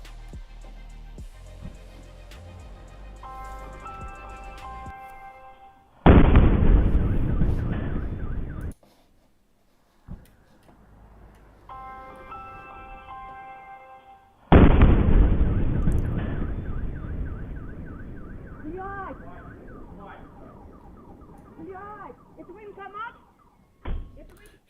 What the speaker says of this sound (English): This is the moment of the explosion.